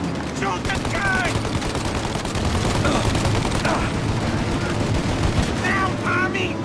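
Heavy, continuous machine-gun fire from the 1930s gangster game Mafia: Definitive Edition, played on Classic difficulty, rattles loud and close throughout a shootout, with a few shouted voices rising over it.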